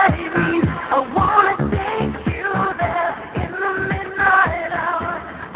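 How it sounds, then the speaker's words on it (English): A song playing forwards as normal, a dense, full pop mix with a steady beat and layered voices and instruments, loud and continuous. "Played forwards, the song sounds like this."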